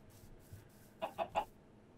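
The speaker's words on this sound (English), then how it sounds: "Look at the chicken." Minecraft chicken gives three quick soft clucks in a row, faint and close, over quiet game background.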